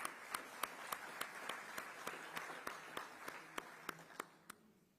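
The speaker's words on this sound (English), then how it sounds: "A round of applause." Sparse, scattered clapping from a summit audience, a few hands beating in an uneven rhythm that thins out and fades toward the end, moderately distant in a large hall.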